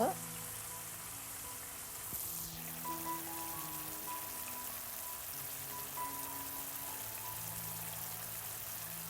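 Chicken bread samosas deep frying in oil, giving a steady, fairly faint bubbling sizzle that continues evenly throughout with no talk.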